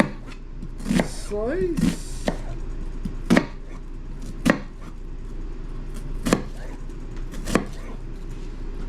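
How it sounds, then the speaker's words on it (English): A knife cuts and slices through an onion on a board, giving a few sharp, separate chops spaced irregularly, close by, with clatter and a person talking between strokes. "I cut it right through the center like this. Like that, that's my onion. And then I slice."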